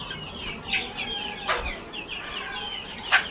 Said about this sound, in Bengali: তাই মুরগিগুলোকে ভিতরে আটকে রেখেছি